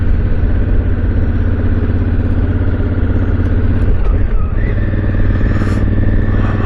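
A Honda Africa Twin motorcycle runs steadily near the microphone through a Storm exhaust fitted with its baffle, giving an even, low, throbbing engine drone with light mechanical clatter.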